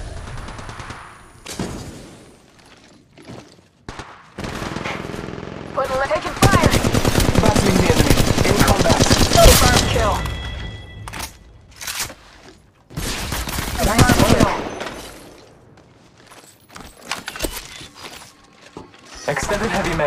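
Rapid automatic weapon fire from Apex Legends gameplay, with sustained loud bursts and scattered single shots layered over game sound effects and overlapping voice callouts.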